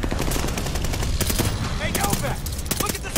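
Dense machine-gun and rifle fire from the Call of Duty Vanguard train heist mission, loud and continuous, with rapid bursts of gunshots that overlap with excited voices.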